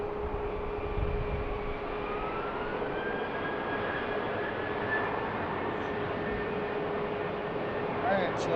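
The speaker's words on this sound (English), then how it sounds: "Alright, so this one's taking off before the arrival gets here." A steady, loud jet roar fills the air at BWI airport as an airliner takes off from the runway ahead of an arriving flight, with a slowly rising engine whine.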